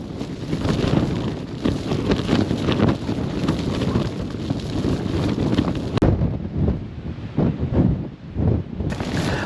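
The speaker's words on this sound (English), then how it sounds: "The wind was so strong I couldn't even stand up straight." Storm Darragh's strong wind batters a wild campsite, heavy rumbling gusts buffeting the microphone in loud, uneven surges, briefly dropping before roaring back.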